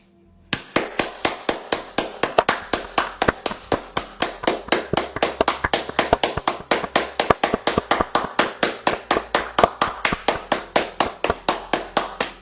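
Hands clapping repeatedly in a fast, steady rhythm, dozens of sharp close claps one after another for several seconds with no break and no talk.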